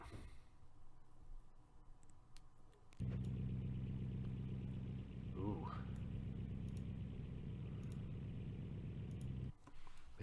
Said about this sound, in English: Chevy 454 V8